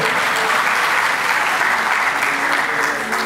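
At a vocational education cooperation protocol signing ceremony, an indoor audience breaks into dense, sustained applause that stays loud and even for the whole stretch.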